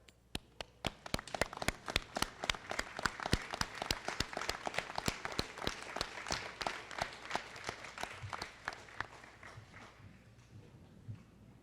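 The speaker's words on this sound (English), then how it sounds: "give a round of applause to those who are here today and have supported us." Scattered hands clap at a high school graduation ceremony, faint and distant, the crisp claps falling into a loose rhythm before thinning out toward the end.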